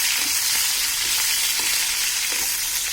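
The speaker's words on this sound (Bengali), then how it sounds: "পেঁয়াজ বেশি ভাজা যাবে না।" Thickly cut onions frying in a pan on high heat, a steady broadband sizzle with faint stirring scrapes, close and continuous with no talking.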